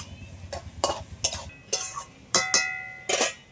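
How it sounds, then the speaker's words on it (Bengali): Prawns being stirred into ash gourd in a pan, with about eight distinct scraping, clinking strokes of a utensil against the metal pan at an uneven pace, close up and with no voices. "এবার আমি এই চাল কুমড়োর মধ্যে চিংড়ি মাছগুলো দিয়ে দিচ্ছি, একটু হালকা নেড়ে চেড়েই আর লাগিয়ে নেব"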